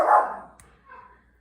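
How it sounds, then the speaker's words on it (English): A dog barks once loudly nearby, followed by a fainter whimpering yip, in a home craft room. "There's my other dog."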